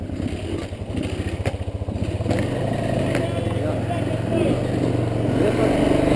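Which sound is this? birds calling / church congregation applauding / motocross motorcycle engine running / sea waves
motocross motorcycle engine running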